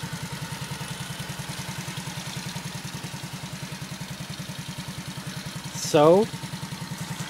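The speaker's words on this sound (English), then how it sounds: "I got the putt-putt running" A small motorbike engine idles with a steady, rapid putt-putt close by on a snowy late-February day, a person briefly speaking over it.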